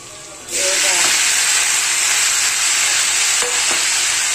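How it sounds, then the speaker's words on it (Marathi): Tomatoes drop into hot oil for a homestyle tomato chutney, setting off a sudden loud sizzle that holds as a bright, steady hiss with a couple of stirring clicks. "तेल सुटायला लागलेलं आहे आणि आता आपण याच्यामध्ये टोमॅटो टाकून घेऊया"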